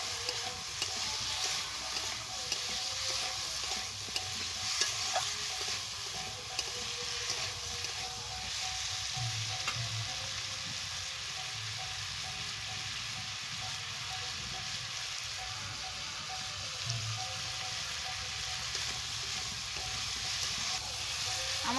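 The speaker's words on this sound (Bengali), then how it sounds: "লঙ্কার গুঁড়ো দিয়ে দেব, দিয়ে নেড়ে নেব ভালো করে।" Vegetables frying in a pan with chili powder, previously fried in a little oil, give a steady, close sizzle throughout, with occasional soft scrapes of stirring and no talk.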